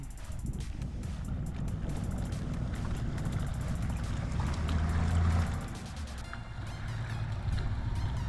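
A small fishing boat's outboard engine runs steadily on the water, a continuous close low drone holding at even loudness with a slight swell midway and no talking.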